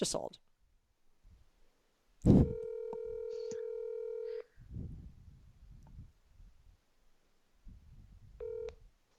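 Telephone keypad tones beep in a short burst of dialing, followed by a sustained ringback tone that stops and then returns briefly, with rustling and low handling noise in between.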